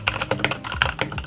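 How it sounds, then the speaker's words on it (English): Fast, clacky typing on a handmade Varmello Moonlight mechanical keyboard fitted with Drop Skylight keycaps, crisp keystrokes in quick succession close to the mic. "So this is actually a Varmello Moonlight keyboard with drop Skylight keycaps."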